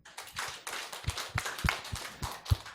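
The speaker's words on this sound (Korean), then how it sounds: "박수 한번 보내겠습니다" A church congregation gives a short round of scattered hand clapping, fairly faint and uneven, with individual claps standing out rather than a dense ovation.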